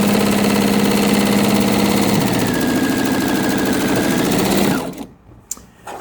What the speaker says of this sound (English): I'm just going to sew right off the end